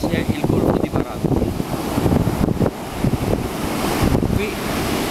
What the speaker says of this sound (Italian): Qui oggi il mare è abbastanza agitato